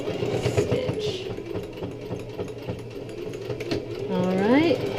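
A sewing machine stitches a jeans hem in short, close bursts of rhythmic mechanical whirring, with a rising whine near the end, under a person talking.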